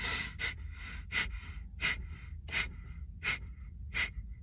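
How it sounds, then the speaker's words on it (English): Forceful breaths pushed through the nose in fire-breathing meditation, about seven sharp rhythmic bursts spaced roughly half a second to a second apart, close and fairly loud, no talking. "But but when you're breathing like forcefully."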